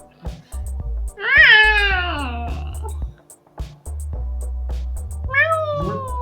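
A person imitates a cat with two drawn-out, pitch-bending meows, loud and close, separated by pauses with soft background sounds.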